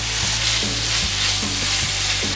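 Tomato paste sizzles and fries steadily in a hot pan for shepherd's pie, a dense crackling hiss with a soft rhythmic scrape of stirring every half second, close and loud with no talking.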